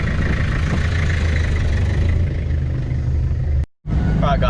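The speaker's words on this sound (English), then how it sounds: "I'm gonna drop the wheel down and flip and take it for a drive." A 2001 Toyota Hilux engine idles in a steady low rumble, then cuts to near silence for a moment before the rumble resumes, with faint chirping ticks over it at the end.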